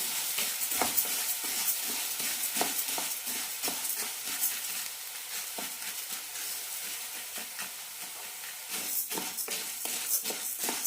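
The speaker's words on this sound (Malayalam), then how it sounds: "ചെറുപയർ നല്ല ചോക്കനെ വറുത്തെടുക്കണം ഉൾഭാഗത്ത് നല്ല ക്രിസ്പിയായി കിട്ടണം അതുവരെ വറുക്കാം" Green gram dry-roasting in a pan makes a dry, rattling sizzle, broken by frequent scraping stirs that come in uneven bursts, steady and close, with no talk.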